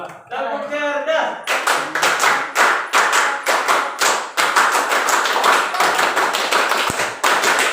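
Participants at a school positive-culture session do the 'tepuk cerdas' clapping chant: after a short spoken cue, a group claps in crisp, patterned rhythmic bursts, loud and close, with chanted voices mixed among the beats.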